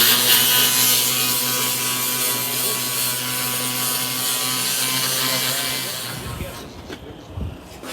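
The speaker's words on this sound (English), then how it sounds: "Grinding." A power grinder works on the metal body of a 1959 Ford Galaxie with a loud, steady abrasive whine and hiss for several seconds, then stops, leaving scattered clatter and a voice.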